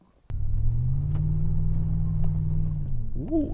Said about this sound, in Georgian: ეხლა კი გადავინოსროთ ჩვენს 8 ცილინდრიან მონსტრში, დავქოქოთ